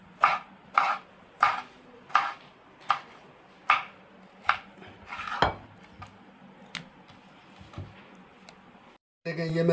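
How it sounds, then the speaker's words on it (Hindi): A knife chops tomatoes on a board in a series of sharp, evenly spaced knocks, close and clear, slowing and softening toward the end; a brief clatter follows. "और ये तमाम टमाटर इसी तरीके से, ये देखें, मैं काट दूंगा"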